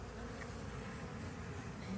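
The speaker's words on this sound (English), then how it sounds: "Maybe a different bee from a different hive decided to come in, and they're not liking him or her." A dense, steady drone of many honeybees buzzing together at a hive, continuous and close with no pauses.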